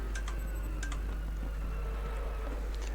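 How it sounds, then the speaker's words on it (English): Rapid ticking clicks from downshift protection in the Raceroom racing game, driving a BMW M6 GT3 at Monza, sounding as a few faint repeated ticks over a steady low engine drone and constant hum. "That noise is the downshift protection."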